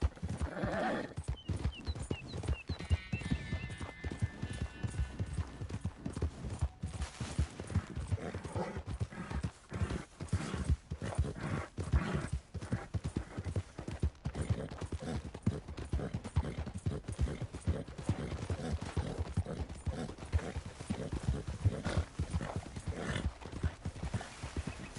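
Continuous clip-clop of horse hooves at a steady trot in Red Dead Redemption 2, lasting the whole stretch with an occasional whinny and faint livestock bleats in the background.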